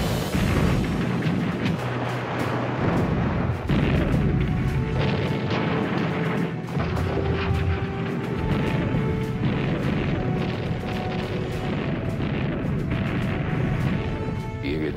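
Dense, continuous rumble of naval shellfire in the night battle off Guadalcanal in 1942, with repeated booms, crashes and explosions piling up without pause, loud and chaotic throughout.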